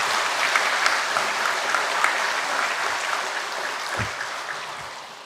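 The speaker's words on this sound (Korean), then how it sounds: "우리 박수로 환영하겠습니다." A congregation at a Methodist church's Sunday service applauds to welcome a church elder: steady, dense clapping from many hands that carries on for several seconds and eases slightly toward the end.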